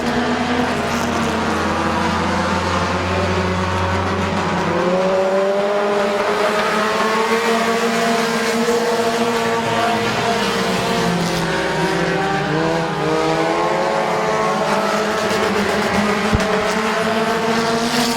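Compact-class race cars lap the Midvale Speedway oval, their engines whining loudly in overlapping rising and falling pitches as several cars pass in close succession without pause.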